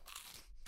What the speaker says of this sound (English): It's the sound of crunching chicharrones.